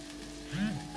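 An eggplant, zucchini and vegetable stuffing mixture cooking in a pan, a soft low sizzle with a brief swell of bubbling midway, heard alone and fairly quiet.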